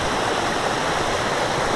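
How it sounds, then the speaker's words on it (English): A creek near hot springs flows steadily, a dense, even rush of water close by that fills the whole stretch without pauses or voices. "Look at that creek."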